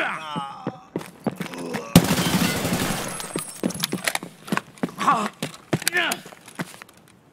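Gunfire in Escape from Tarkov, with a machine gun firing at the player through a wall: a dense two-second burst of loud shots, then scattered sharp cracks and clicks, with voices talking over parts of it.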